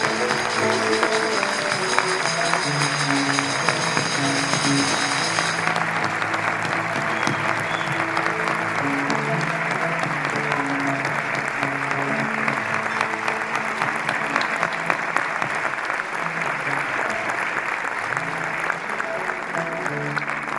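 A concert audience applauds to welcome a guest onto the stage, with sustained dense clapping from a large crowd throughout and a steady musical tone underneath.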